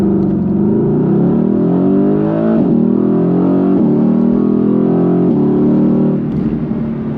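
A Mercedes-AMG GT base sports car accelerates hard, its engine note climbing loudly and continuously through the gears, with brief dips at each shift and no talking.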